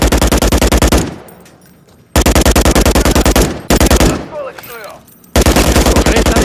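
Loud, close bursts of rapid machine gun fire in Modern Warfare 3, three long volleys separated by brief pauses filled with quieter in-game noise.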